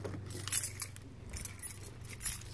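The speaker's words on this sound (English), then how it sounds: "I gotta get my keys." Keys to an Acura fob for a 2006 Acura TSX jangle close by in a few bright metallic bursts over a low steady hum, with no talking.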